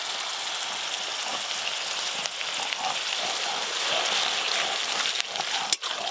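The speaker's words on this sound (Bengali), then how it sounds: "এক জায়গার সঙ্গে আদা বাটা দিয়ে বেশ ভালো করে একটু ভাজা ভাজা করব।" Ginger paste frying in oil with whole garam masala, cumin and onion paste for chicken curry, a steady soft sizzle close by, continuous and even, with a brief clink near the end.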